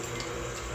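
Hot water streams steadily into a cookie dough mix for date-filled cookies, a continuous close splashing pour with no talking.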